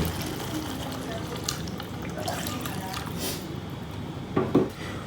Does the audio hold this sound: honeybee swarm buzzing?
no